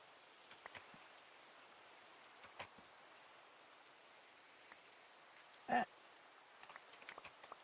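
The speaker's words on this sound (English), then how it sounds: "We've got some Minecraft rain." Rain in the video game Minecraft falls as a steady, soft hiss of raindrops, faint and continuous with one brief louder tap near the end.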